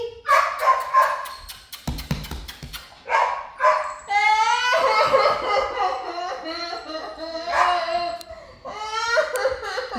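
A puppy barks and yips over and over in quick, high-pitched bursts at close range. A person's voice is heard now and then among the barks.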